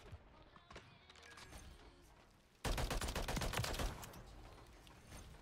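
Bursts of automatic gunfire in Modern Warfare 3, a few scattered shots at first, then a dense loud volley of rapid rounds for over a second before easing back to sparse shots.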